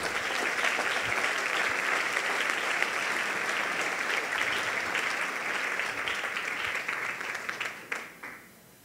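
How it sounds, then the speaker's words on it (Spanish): A church congregation applauds during a Sunday sermon, sustained crowd clapping that holds steady for several seconds and then trails off near the end, with no speech over it. "denle un aplauso a nuestro Rey"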